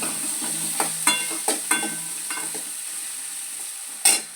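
Ingredients with cashews sautéing in a hot pan for a mutton curry, a steady sizzle broken by a series of scraping stirs, closer and louder at the start and once more near the end; no one talks.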